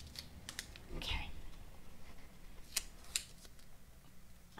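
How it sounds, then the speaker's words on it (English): Duct tape is handled and pressed down while making a soda bottle paddleboat, giving scattered soft crinkles, sticky peeling snaps and light taps at close range in a quiet room. "I'm having trouble with duct tape today."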